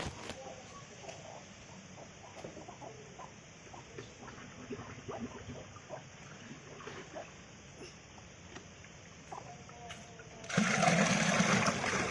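Water poured for a cow from a pot, beginning as faint trickles and small splashes, then turning into a sudden loud, steady gush for the final couple of seconds.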